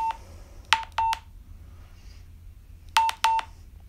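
Short electronic Morse tones from a phone training app: a single beep, then two quick pairs of bright pitched dits with a pause between groups, crisp and close, with no speech.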